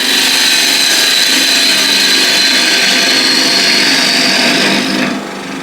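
A lathe spins as a woodturning tool makes a push cut inside a chucked piece, riding the bevel, giving a loud, continuous hissing scrape that runs steadily and then eases off near the end.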